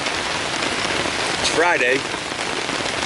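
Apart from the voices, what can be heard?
rain falling at campsite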